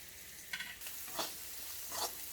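Chinese vegetable fried rice is stir-fried in a hot pan, with a quiet steady sizzle broken by three scraping stirs at even intervals, heard alone.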